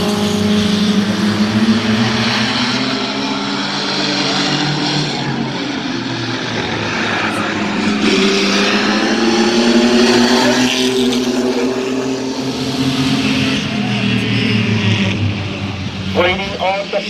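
Mini trucks racing at Midvale Speedway, loud engine roars rising and falling as the trucks pass close and pull away lap after lap, under an announcer calling the race.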